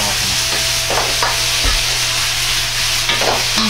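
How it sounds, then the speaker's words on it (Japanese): Shrimp and peanuts stir-fried with pork stock in a pan, a steady sizzle with stirring scrapes and clanks over a constant frying hiss, close and fairly loud. "合わせた豚スープをよく混ぜながら鍋の中に入れ、材料と絡めるようにして炒め合わせます"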